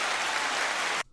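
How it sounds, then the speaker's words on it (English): A brief, even roar like an audience applauding, uniform enough to resemble rain, holding steady for about a second and then cutting off abruptly into near silence. "All right, well, it's applause then."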